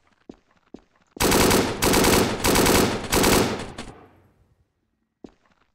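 Gunfire in the video game Blackhawk Rescue Mission: a few faint isolated shots, then several loud sustained automatic bursts close by that fade into a decaying echo, followed by one more sharp single shot.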